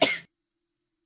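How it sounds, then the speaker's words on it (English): A single short cough, close and sharp, lasting a fraction of a second and then silence. "Apologies for the coughing."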